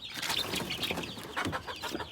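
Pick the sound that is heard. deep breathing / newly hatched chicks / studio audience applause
newly hatched chicks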